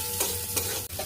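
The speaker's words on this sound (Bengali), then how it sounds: "ভালো করে ভাজা ভাজা করে নেব" Chopped vegetables with salt and turmeric frying in a pan as a spoon stirs them, a steady close sizzle broken by a few scraping strokes, with no talking.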